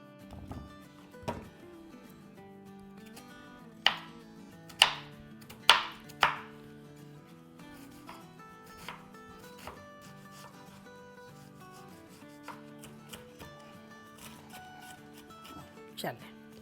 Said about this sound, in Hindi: अब इसको जो है हम आधा काटते हैं और ऑमलेट कट प्याज काटते हैं।